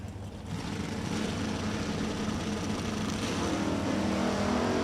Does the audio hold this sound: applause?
no